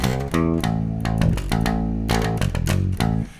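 A Fender Precision bass strung with old flatwound 1954 LaBella strings, played with a pick, gives a punchy, guitar-like run of close, loud notes with sharp attacks and no speech.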